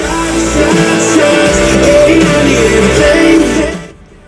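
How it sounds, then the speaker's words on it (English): Music plays loudly from the radio of a 1971 Chevrolet Chevelle SS for a few seconds, then cuts off abruptly, leaving near silence. "Radio sounds fantastic."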